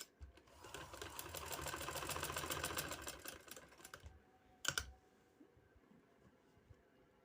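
Sewing machine stitching trouser fabric runs steadily and closely for about four seconds, then stops, followed by a brief mechanical clunk and quiet.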